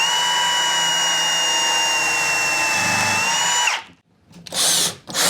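Power drill driving long screws into a wooden puppy gate, a steady high whine that runs several seconds then cuts off, followed by short bursts as the screw seats.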